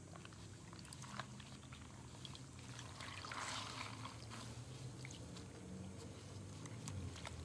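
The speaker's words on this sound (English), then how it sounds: "I'm gonna just lay this into my paint water mixture." Linen fabric is laid into a paint and water mixture, giving a soft, faint wet trickling and dribbling with light splashy ticks, close and steady, with no talking.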